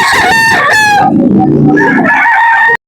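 A rooster at a backyard livestock auction crows loudly and close by, one long cock-a-doodle-doo, followed by a second crow rising right after it.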